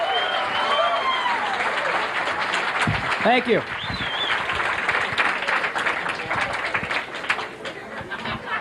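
Studio audience applause greets a comedian on a 1988 TV comedy show, a dense steady wash of clapping throughout, with someone briefly speaking over it.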